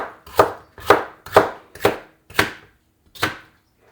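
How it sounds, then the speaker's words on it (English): A knife chops peppers on a cutting board in a home kitchen, six crisp, evenly spaced strikes close up, with no talk. "And simply, we're just gonna be chopping."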